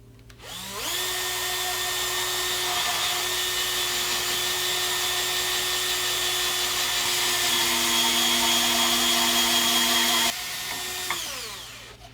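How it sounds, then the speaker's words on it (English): A power drill whirs steadily at close range for about ten seconds, drilling holes in a Telecaster guitar build, its pitch dipping slightly under load before winding down. "just drill these two holes to begin with"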